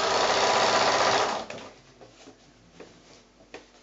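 Sewing machine stitching a quarter-inch seam on a quilt block, running as a loud, steady close whir for about a second and a half, then stopping, followed by faint handling sounds and small taps.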